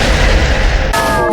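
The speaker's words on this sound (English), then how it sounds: "Peter Griffin used Solar Cannon" The Solar Cannon attack effect in the video game Manamon is a loud, dense burst of blasting noise that cuts off sharply into a bright, shimmering tonal ring.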